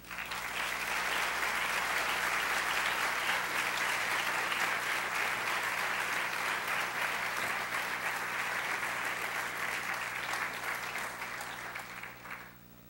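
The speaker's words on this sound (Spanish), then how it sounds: "Damos un fuerte aplauso e invitamos a este escenario a recibir este reconocimiento a la alumna Francisca del Solar Roseló." Steady, dense applause fills a graduation ceremony hall for a graduate receiving an award, a broad wash of many hands clapping continuously for over ten seconds before tapering off at the end.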